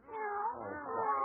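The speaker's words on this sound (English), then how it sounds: "Can't understand why these cats keep trying to stick their heads into my coat pocket." Alley cats meow and caterwaul in a drawn-out, wavering yowl, moderately loud and close, with a faint low voice underneath.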